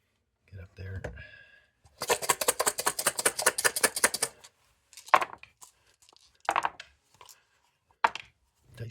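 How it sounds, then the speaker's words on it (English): Dice shaken in a jar during a tabletop wargame produce a dense burst of rapid rattling clicks lasting about two seconds, followed by a few sharp separate clatters, close and fairly quiet. "Dice didn't want to come out of that jar there."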